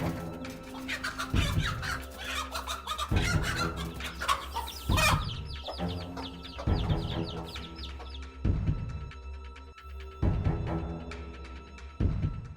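Hen clucking and squawking close up, repeated bursts over a steady rhythmic musical backdrop, loud and agitated.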